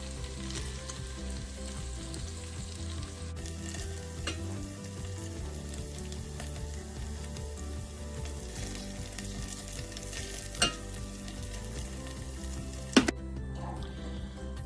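Meatballs sizzle quietly and steadily in a greasy pan, a soft continuous frying hiss with occasional sharp clicks of a utensil against the metal, no talking.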